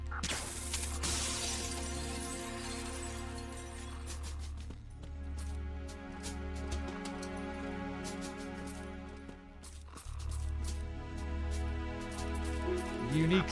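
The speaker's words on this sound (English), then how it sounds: "another thing we can do here is break the glass" Glass shattering in Metal Gear Solid 2: Sons of Liberty, a bright crash near the start followed by scattered crunchy tinkles and clicks over a steady low game hum, with a second sharp burst near the end.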